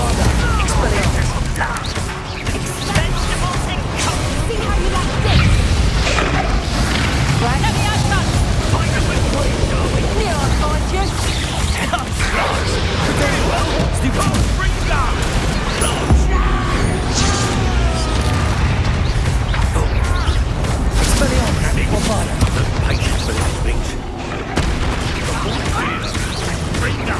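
Bombarda blasting spell in the Hogwarts Legacy video game, repeated booming explosions and crashes within dense, continuous battle noise, loud and close, with someone talking over them.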